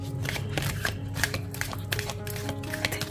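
Tarot cards being shuffled by hand, a steady run of soft riffling flicks over a low constant background hum, close and fairly even in level.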